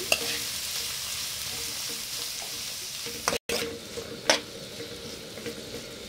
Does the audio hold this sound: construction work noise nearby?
no